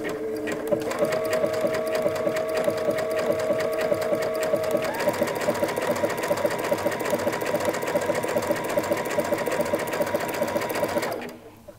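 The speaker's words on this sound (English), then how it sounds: "Lower your presser foot and begin stitching." A sewing machine runs steadily for nearly twelve seconds, stitching an overcast stitch with the G foot guiding a raw fabric edge. The close, even mechanical whir shifts slightly in pitch midway, then stops abruptly.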